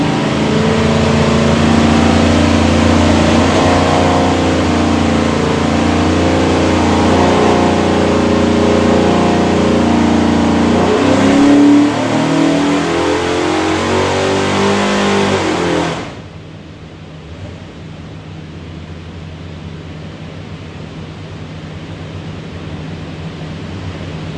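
A 408 Windsor small-block Ford with hydraulic roller cam, built for a 1996 Bronco 4WD, roaring loud and sustained at high revs on an engine dyno, a brief surge near the middle, then cutting off abruptly to a quiet shop hum.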